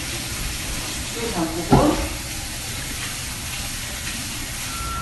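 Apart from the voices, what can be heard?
somen noodles being rinsed in cold water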